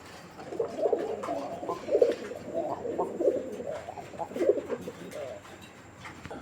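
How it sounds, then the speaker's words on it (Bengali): Pigeons coo softly in a low, rolling rhythm of four or five repeated phrases, close and steady against a quiet background. "এই মুহূর্তে আমরা দেখতে পাচ্ছি আরও এক জোড়া কবুতর"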